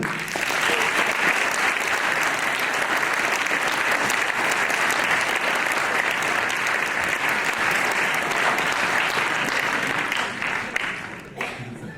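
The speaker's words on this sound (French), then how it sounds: "on peut les applaudir" Audience at a regional election political meeting in Rennes applauds in a long, dense, even burst of clapping that holds steady before tapering off near the end.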